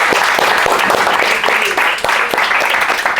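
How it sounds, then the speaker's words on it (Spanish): Youth group audience in Alboraya clapping for a presenter at the end of a session: loud, close, continuous applause with individual sharp claps standing out throughout. "Un aplaudiment a Vicent."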